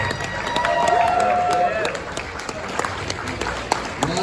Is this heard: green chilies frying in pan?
no